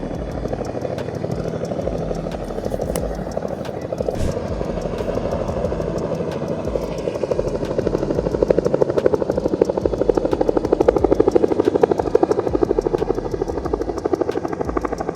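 A helicopter hovers and lifts 1,200-pound air conditioning units onto a large warehouse roof, its steady rotor thump and engine drone continuous and loud, swelling slightly toward the middle, with no voices.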